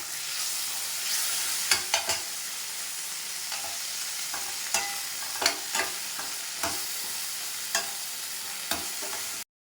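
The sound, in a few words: sautéing ginger, tomato and curry leaves in a pan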